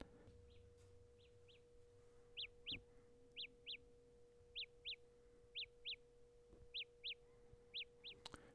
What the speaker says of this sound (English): they make like a little chirping noise so you can find them